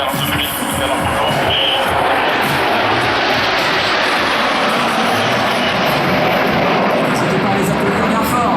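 Patrouille de France jets flying in formation at the La Ferté-Alais 2022 air show, a loud, continuous broadband roar of jet engines that holds steady throughout, with an announcer talking over it.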